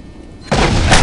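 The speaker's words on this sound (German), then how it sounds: "dass es so eine große Explosion haben muss" A big explosion erupts in the video game Postal 2, a loud sudden broadband blast that starts abruptly midway and stays full and roaring to the end, following a quieter stretch of game background.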